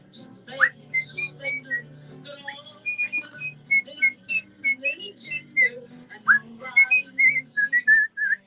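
A person whistles a song up close, a string of clear melodic notes at a fairly quiet level, with a faint low hum under it.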